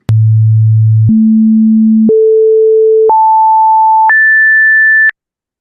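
Five steady generated electronic tones, each about a second long, step upward an octave at a time, loud and pure, with no voices.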